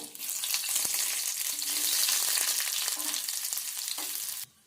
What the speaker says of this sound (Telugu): ఇప్పుడు ఇదే నూనెలో ఈ ఉల్లిపాయ ముక్కలు వేపుకోవాలి.